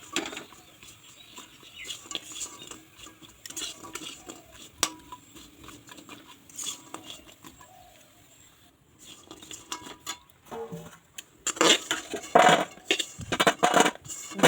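Sugar-coated goja sweets are stirred in a wok off the heat, giving intermittent crunchy rattles and scrapes that pause briefly midway, then return in louder, busier bursts.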